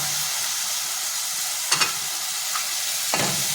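Peeled fresh cashews, potato and drumsticks sautéing in a masala pan for a Konkani cashew bhaji, a steady low sizzle with two brief stirring scrapes, close and fairly quiet, no talk.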